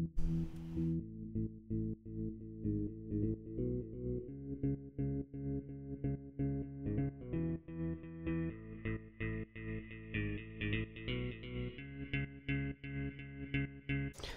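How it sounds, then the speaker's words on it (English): Guitar in a dance track fading in under an opening filter: a repeating rhythmic riff starts muffled and low, then gradually brightens as higher tones open up over about fourteen seconds, after a short noisy burst at the start. "So the guitar starts to come in with the luff filter."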